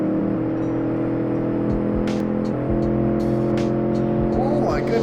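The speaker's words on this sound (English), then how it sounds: "Bounce off the rev limiter" A 1966 Gasmea built in Automation and driven in BeamNG holds a steady, loud engine drone while bouncing off the rev limiter. Brief tire squeal and short clicks cut through near the end.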